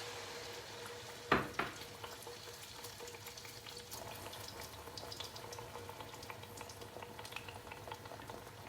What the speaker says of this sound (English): I'm going to start to cook by fry the blended spices first.